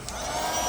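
A princess toy hair dryer runs with a steady, high-pitched electric whir, close and continuous for under a second.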